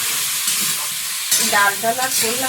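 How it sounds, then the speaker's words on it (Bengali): Elephant foot yam frying with turmeric and salt in a pan, a steady close sizzle with stirring scrapes, while someone speaks briefly over the cooking. "হলুদ ভালো আর লবণ দিয়ে ওল আলুটা একটু ভালো করে ভেজে নেব"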